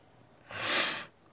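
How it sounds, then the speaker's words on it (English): One sharp, airy sniff through the nose from someone with a cold, lasting about half a second, close and fairly loud against a quiet background. "sorry about all the sniffling"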